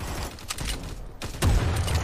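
Gunfire in the mobile shooter Guns of Boom, a few sharp broadband cracks spaced through the clip with a denser burst near the end, over busy game background noise.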